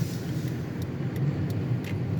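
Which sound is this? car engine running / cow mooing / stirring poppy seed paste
car engine running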